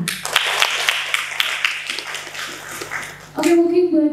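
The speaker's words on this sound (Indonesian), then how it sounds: "boleh tepuk tangan" A room of students clapping together at a student association work meeting, a dense burst of applause lasting about three seconds before a voice takes over.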